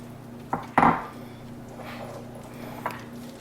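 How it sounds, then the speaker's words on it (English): A spoon stirs chocolate chips and marshmallow cream in a pot of candy mixture just taken off a full boil, giving a couple of sharp metallic scrapes and clinks near the start and then softer scraping. "go ahead and give this a stir"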